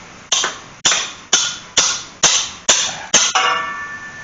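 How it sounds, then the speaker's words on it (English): A brass hammer strikes a stuck clutch part on a GMC Sonoma / Chevy S10 seven times in a steady rhythm, each sharp metallic clank ringing briefly, the final blow leaving a longer ringing tone. "So we're just going to hit it with"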